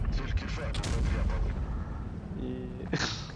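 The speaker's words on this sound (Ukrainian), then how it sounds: "Вистрілив в повітря, на жаль, не влучив." A T-44 tank cannon fires in a tank video game, heavy booming blasts and rumbling at moderate level with a sharp report near the end, against steady engine noise.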